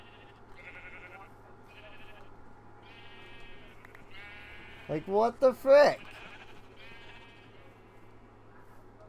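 Sheep in the video game Minecraft bleat in a short cluster of loud, wavering cries midway through, over a steady low background hum, while someone talks casually before and after.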